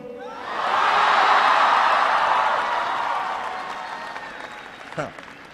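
Audience applause and cheering at a university speech, a loud crowd swelling quickly and then slowly fading over several seconds, with a few whoops near the end.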